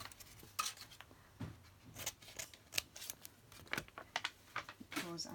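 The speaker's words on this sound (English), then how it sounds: "and then I'm just going to vaguely trim around it." Scissors snipping coffee-dyed paper with a photo glued on, close and quiet, in irregular bursts of crisp cuts with pauses between them; faint room sounds lie underneath.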